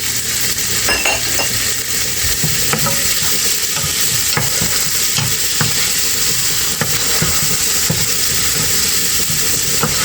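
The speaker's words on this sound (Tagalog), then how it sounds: "Igigisa lang po natin siya." Tomatoes sautéing for sisig in a hot pan: a steady, loud sizzle runs throughout, with repeated stirring scrapes and light clinks of a utensil against the pan, close up and with no talking.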